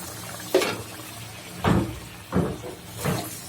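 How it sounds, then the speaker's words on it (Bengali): Broth is poured into a pot of Eid biryani in four short splashing pours, each a distinct liquid gush over a low background hum. "এবার আমি পরিমাপ মতো ঝোল দিয়ে দেবো"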